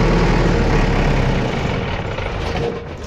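A JCB excavator's heavy diesel engine rumbles loudly nearby, then its roar gradually drops away as it is shut off.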